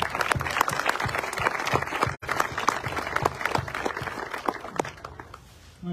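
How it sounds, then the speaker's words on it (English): An audience at a military change of command ceremony for an intelligence brigade applauds, dense steady clapping that keeps going for several seconds with a brief break partway through. "I want to give them a round of applause"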